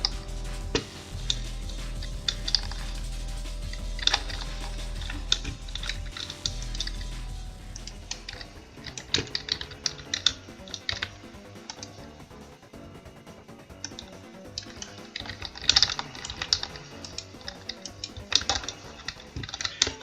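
Someone types on a computer keyboard with rapid, irregular clicks in close-up. A low background hum runs under the first several seconds, and the key bursts continue throughout.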